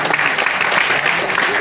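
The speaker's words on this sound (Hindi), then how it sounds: "ये मैडम लोग के लिए जोरदार ताली बजाओ।" An audience at a lifestyle program event in Jorhat claps for the women present. The dense, continuous applause is close and loud throughout its short burst.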